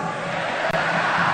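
A large crowd roars a shouted party chant at a Golkar 58th anniversary rally in Indonesia, a dense, loud, sustained wall of voices lasting barely over a second.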